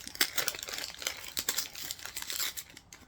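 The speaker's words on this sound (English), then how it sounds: "This doesn't want to be unwrapped." Paper wrapping on a parcel being crinkled and torn open, a busy stream of close rustles and crackles with small sharp rips, fairly quiet and with no talking.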